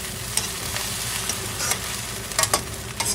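Sabudana khichdi is stirred in a pan on a turned-off stove, with a soft background sizzle under irregular scraping and clinking strokes of the spoon against the pan, close up.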